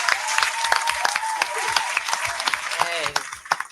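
A comedy crowd in Milwaukee applauds for a comedian, steady clapping under loud talk and shouting, fairly close.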